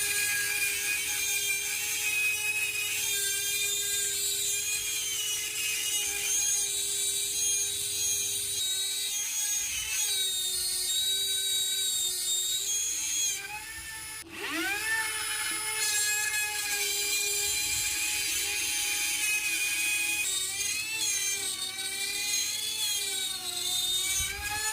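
A Dremel rotary tool with a circle cutter attachment whines steadily at high pitch while cutting a circle, its tone dipping briefly mid-cut before resuming, loud and close.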